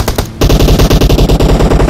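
Rapid automatic gunfire in the mobile battle-royale game PUBG Mobile, a loud, close, evenly paced burst of shots after a brief gap at the start.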